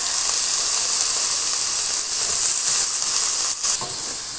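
Bitter gourd pieces and a small potato fry in hot oil in a pan, giving off a continuous bright sizzle and hiss that holds steady with small crackling bursts.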